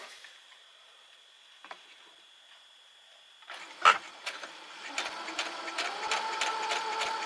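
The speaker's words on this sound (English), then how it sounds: "take a piece of scrap fabric here and just give it a try and see how it works and how quiet this machine is" A Brother RX3340 sewing machine stitches scrap fabric, starting with a faint hum and then settling into a quiet, rapid, even needle patter that gets slightly faster toward the end.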